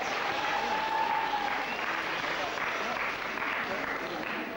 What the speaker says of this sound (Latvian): Aplaus, aplaus, aplaus, aplaus,